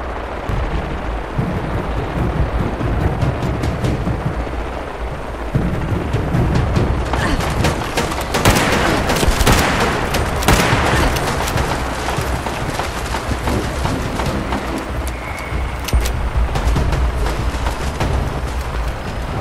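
Gunfire and explosions erupt in Fallout 76 during a nuke launch attempt: dense bursts of shots and heavy booms that swell in the middle, then continue as scattered fire.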